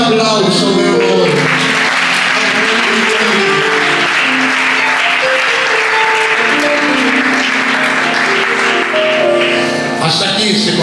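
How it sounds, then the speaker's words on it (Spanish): Church congregation giving a sustained round of applause during a sermon, loud and steady clapping from a large crowd with voices and shouts mixed in, lasting several seconds before easing at the end. "Y dame ese aplauso de honor."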